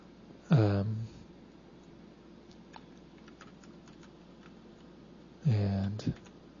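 Computer keyboard arrow keys are tapped during HTML and CSS web development work. There is a scattered series of faint, quick clicks, framed by two short voiced sounds from a person nearby.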